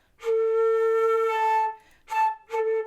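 A flute sounds a high E three times, played with too little air, one long tone and two short ones, clear and close with a thin, airy quality.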